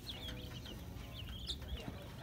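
Chickens at a store clucking in short, faint, repeated calls, heard at a distance over a low background hum.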